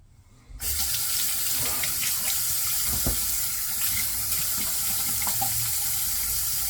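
Water runs steadily from a bathroom sink tap for a rinse after a wet shave with a Blackland Osprey Ti safety razor. The flow is close, loud and continuous after a brief quiet start, with faint handling bumps.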